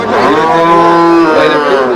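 A native cow at a cattle market lets out one long, loud, close moo that swells and bends in pitch for about two seconds, with no talk over it.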